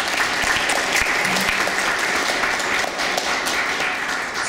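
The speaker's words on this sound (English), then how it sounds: "So let's give Jesus a round of applause." An audience at a land grant and acequias legal education keynote breaks into sustained applause, a dense, even wash of clapping that stays loud and steady throughout.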